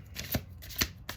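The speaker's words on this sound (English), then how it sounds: "2 more shuffles." A deck of playing cards being shuffled up close, three quick, soft riffling bursts in succession, quiet and crisp with no talking.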